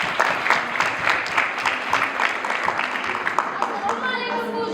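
Children at a school class event clap together in a lively, fairly close burst of applause that continues steadily, with some voices mixed in near the end.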